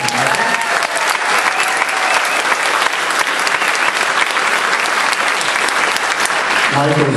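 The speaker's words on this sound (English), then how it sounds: "How about a nice round of applause?" A live audience applauds a performer named Michael Shearer, dense continuous clapping filling the room at full volume from start to finish, with a brief voice at the very end.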